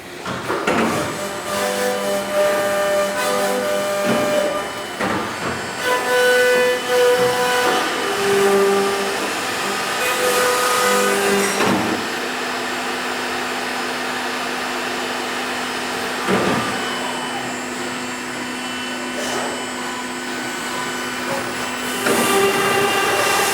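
A 990 APEX machine runs through its start sequence, a loud steady mechanical whir with shifting tonal hums and periodic clunks and bursts, going on continuously with no talking.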